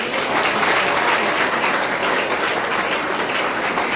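A large audience at a university nutrition and yoga workshop applauds loudly, a dense, steady wash of clapping that holds at full strength throughout with no talking.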